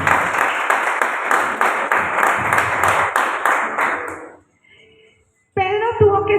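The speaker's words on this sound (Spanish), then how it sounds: "Dale un aplauso al Señor, por favor." A church congregation claps loudly and steadily for about four seconds before the applause fades out, followed by a brief hush and then music with a voice.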